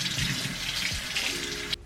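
Shrimp being rinsed under a running kitchen tap, a steady close splash of water into a sink that stops abruptly near the end.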